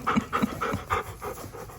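Excited puppies pant in rapid, rhythmic bursts close by, greeting their owner as he comes home, with steady quick breaths and no talking.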